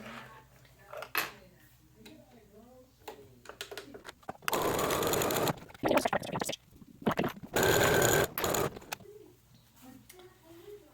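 Sewing machine stitching fabric pieces for a Geek Garden fabric slipper, running in two longer, loud bursts in the middle with quieter handling noises and soft bird-like cooing around them.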